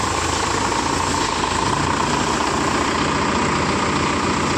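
A Mahindra Yuvo Tech Plus 585 DI tractor's diesel engine running steadily, a loud, close, continuous rumbling drone with no break and no talking.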